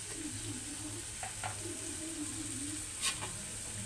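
Okra masala curry sizzling and frying in a pan, a faint, steady hiss with soft stirring scrapes and a couple of brief clinks near the end.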